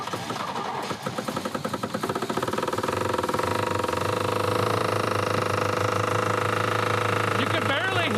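A damaged Oldsmobile Cutlass engine idling roughly, with a steady low uneven rumble and rhythmic knocking pulses. A voice is heard over it.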